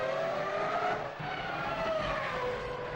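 Formula 1 cars at the start of the 2003 race, a dense roar of high-revving engines from the pack with whining pitch shifts as they accelerate away, loud and continuous.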